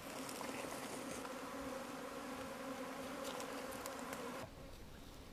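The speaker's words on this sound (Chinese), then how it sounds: "那个蜜蜂它就会找个地方躲，它现在就在那个树的上面，它现在已经落脚了" A swarm of honeybees settled on a tree makes a dense, continuous buzzing hum, steady and fairly faint, with individual bees flying close by; no voices.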